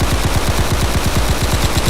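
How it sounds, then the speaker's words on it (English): Rapid automatic fire from an assault gun in the Roblox war game Vanguard, a steady loud stream of evenly spaced shots with no pauses and no talking. "I can hold the mouse button for it to shoot"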